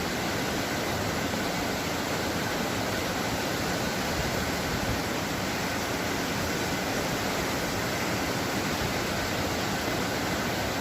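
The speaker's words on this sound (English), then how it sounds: "More waterfalls. Deafening. Absolutely deafening." Waterfalls along a mountain road near Geiranger, Norway, send out a steady, broad roar of rushing water that fills the whole clip with no breaks and no voices.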